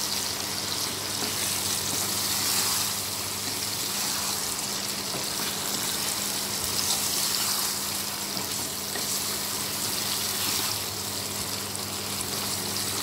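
Potato and pointed gourd fry in a spiced oil paste, sizzling in a steady, dense hiss that stays close and even for the whole stretch, with no voices.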